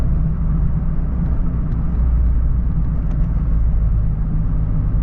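Car traffic passing through a town in England, heard as a steady low rumble of road noise and engines with a soft whir, continuous and fairly loud, with no voices.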